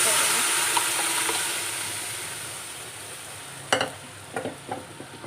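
Cooked dal from a pressure cooker meets a hot tadka, a bright sizzle that fades gradually, followed by a few sharp clatters and spatters as more is poured in, close up and without talking.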